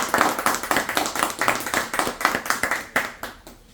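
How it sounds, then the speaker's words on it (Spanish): A small audience at an academic talk gives a round of applause, individual hand claps distinct and fairly close, falling into a loose rhythm before tapering off. "me acompañan con un aplauso nuevamente"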